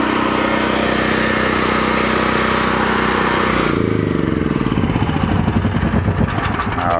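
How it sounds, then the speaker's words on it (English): Portable generator running loud and close, a steady droning engine whose tone shifts partway through into a rougher, pulsing chug as the load changes. "I walk up to my generator."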